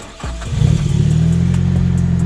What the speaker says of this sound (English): So let's start this thing up and let's go for a drive.